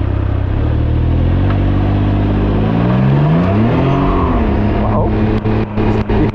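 A 2021 Can-Am Ryker Rally three-wheeler on its stock exhaust revs hard for a burnout, its engine note climbing and falling in loud sweeping pitch over several seconds, with a voice briefly heard near the end.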